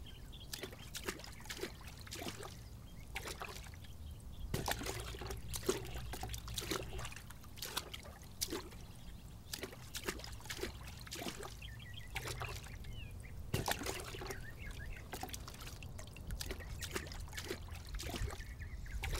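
Water trickles and splashes steadily as gold-bearing sediment is rinsed in a pan at a Madagascar mining site, with continuous close dribbling and occasional sharper sloshes.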